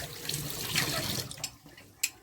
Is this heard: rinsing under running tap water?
yes